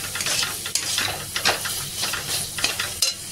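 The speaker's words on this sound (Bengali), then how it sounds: "এবার একটু ভালো করে আমি কষিয়ে নেবো" Spices with red chili powder fry in a pan, a close, lively sizzle with quick scraping stirs and occasional clinks of the utensil against the metal.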